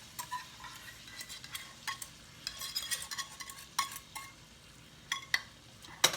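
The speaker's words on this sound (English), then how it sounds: "Now, we take our happy little sausage, stir it there" Sausage stirred into a savory sauce in a noisy cast iron skillet: irregular metal scrapes and clinks over a steady low sizzle, close and fairly loud, no talking.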